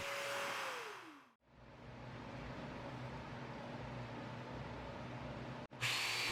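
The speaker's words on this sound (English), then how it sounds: "I'm choosing to use loose tenon joinery for this build with my domino" A Festool Domino-style joiner, a handheld power tool, cuts loose tenon mortises in 2x4 lumber for a mobile dust collection cart, giving a steady high-pitched motor whine that runs almost the whole time, broken by brief pauses near the start and end.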